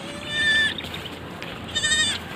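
Two small young goats on a small-scale Philippine goat farm bleat in two separate bursts, with a quiet pause between them. The calls are close and clear, with no talking.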